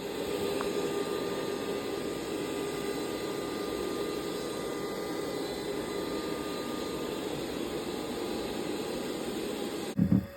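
A Roomba robot vacuum runs across hard floor and carpet, a steady whirring motor hum with broadband suction hiss, close and continuous, ending in a brief clatter.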